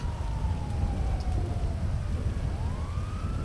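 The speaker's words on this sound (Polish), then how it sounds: "Czy ja słyszę policję?" In GTA V, a police siren wails faintly in the distance, its tone sliding down and then rising again over a low rumbling background.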